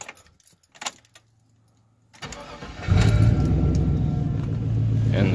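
A GM vehicle with a junkyard ECU, its anti-theft VATS deleted for an LS swap, cranks briefly after quiet key jangling, then catches and settles into a steady, loud idle close by.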